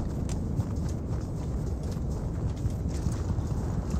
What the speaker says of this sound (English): Footsteps near me, right here.